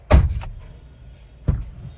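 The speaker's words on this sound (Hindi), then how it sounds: "मैंने अभी राइट साइड का ये वाला दरवाजा खोला है" A car door opens with a thunk, then after a short pause shuts with a solid thud, close by.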